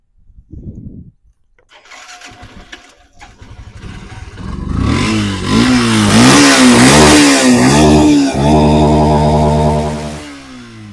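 A Yamaha FZ-S motorcycle, about 2017, self-starts after a few faint clicks, then its engine revs hard in several rising and falling surges before settling to a loud, steady idle, close by with no speech.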